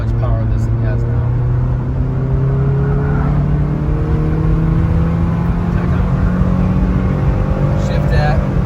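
Engine of a 1995 Honda Accord with a 2.2 VTEC rising steadily in pitch as it accelerates toward 5,000 RPM, a loud continuous drone heard from inside the car with road noise.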